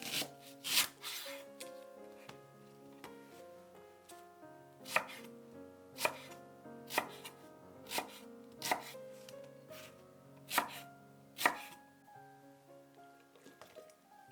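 A knife cuts the white part of a leek on a cutting board: crisp, close chops spaced roughly a second apart, with a few quick strokes at the start, quiet and alone.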